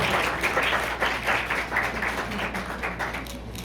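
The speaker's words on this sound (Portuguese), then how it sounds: "Palmas!" An audience at a women-in-health summit award ceremony in Fortaleza gives continuous, dense applause of many hands, steady in level and moderately loud, with no talk.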